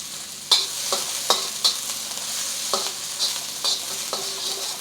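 Onions fry in a hot pan for a shrimp and scrambled egg dish, giving a steady sizzle broken by sharp clinks and scrapes of stirring at irregular intervals, close and moderately loud with no talking.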